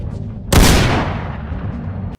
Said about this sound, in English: as Angelo Bruno flicks the cigarette, a gunshot blast goes off